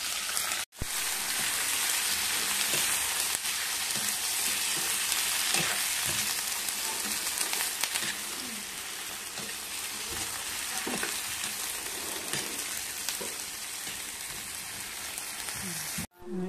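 Shrimp fry in a pan at home with a steady, dense sizzle that hisses without pause, briefly cutting out near the start and again at the very end.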